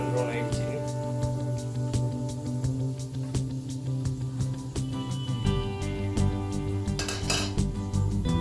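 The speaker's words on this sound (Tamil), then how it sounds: "பிளேட் மாற்றி எடுத்து வச்சுப்போம்" A plate is swapped out and set down in a home kitchen during aval payasam preparation after cashews are roasted golden brown, giving several close clinks and knocks of crockery and cutlery over a steady tonal background.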